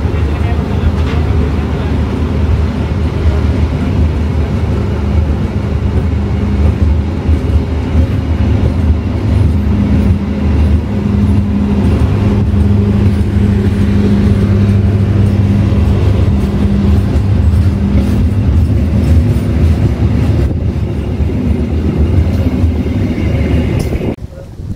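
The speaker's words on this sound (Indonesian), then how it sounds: "Kereta api Baturaden Express diberangkatkan terlebih dahulu ya dari stasiun Sidarja" The Baturaden Express train departs a station, its low engine rumble and rolling wheel noise steady and loud for a long stretch as it pulls away, with people talking over it now and then.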